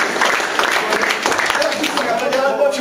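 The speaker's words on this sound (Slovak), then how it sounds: "Ľudkovia, potlesk pre mojho pomocníka" Applause from an audience at a cultural programme during a party congress in Betliar, a short burst of dense clapping mixed with crowd voices.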